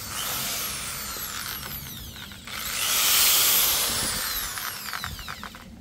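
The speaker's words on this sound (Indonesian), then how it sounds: "mata bor dengan diameter 7 mm" A DCK electric drill bores with a 7 mm bit at medium speed, giving a loud, close whirring grind that rises and falls in pitch as the motor loads up, with a brief dip midway before spinning up again.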